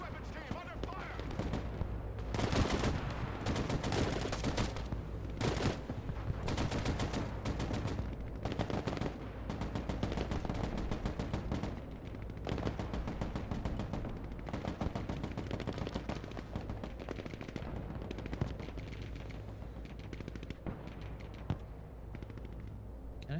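In Broken Arrow, a heavy weapons team comes under sustained gunfire: continuous crackling rifle and machine gun bursts, dense and steady over many seconds, with a voice talking at times underneath.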